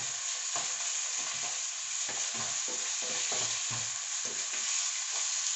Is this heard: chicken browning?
yes